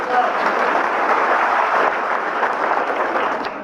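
Audience applause during a CSC Aadhaar enrollment training session, a broad, steady patter of many hands clapping throughout, fairly close and even in loudness.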